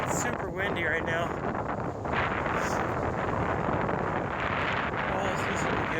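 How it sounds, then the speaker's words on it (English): Strong gusting wind on an Appalachian Trail mountain section near a power line roars steadily across the microphone for the whole stretch, loud and rumbling with no letup. "It's super windy right now."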